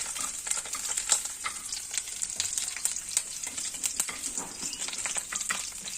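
Crushed garlic and curry leaves frying in hot coconut oil in a pan before fish is added, a continuous crackling sizzle with sharp spitting pops and occasional stirring scrapes, close and steady without talk.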